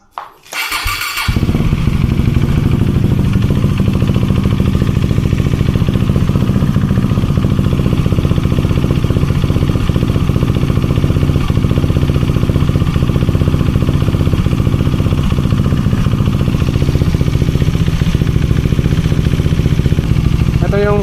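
A KTM Duke 390 motorcycle fitted with a Dominar 400 radiator fan starts with a brief crank, then settles into a loud, steady, close idle that holds for the rest of the clip.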